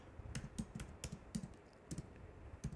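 Fingers type text on a computer keyboard, producing quiet, close, irregular clicks and taps in short bursts with no voices.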